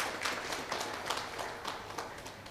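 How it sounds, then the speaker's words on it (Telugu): An audience at an event applauding, a steady patter of many hands clapping at moderate volume with a few louder claps standing out. "కొంచెం చప్పట్లు కొడితే బాగుంటుందేమో."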